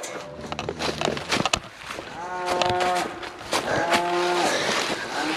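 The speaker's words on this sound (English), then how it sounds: "There's a cow over at our neighbor's property that they really enjoy talking to." A cow on a neighboring farm property moos several times in long, drawn-out calls on a bitterly cold, windy winter day, heard fairly near after some scattered knocks and clatter.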